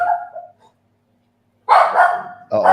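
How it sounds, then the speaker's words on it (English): A dog barks in short, loud, close bursts, one brief bark, then a pause, then two more sharp barks in quick succession. "That's the dog chasing the landlord away."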